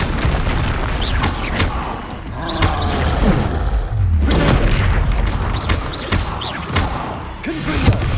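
Spell-blast explosions from the Confringo blasting curse in Hogwarts Legacy, a run of deep booming thuds and bursts amid busy combat noise, with a heavier blast near the middle and repeated hits throughout.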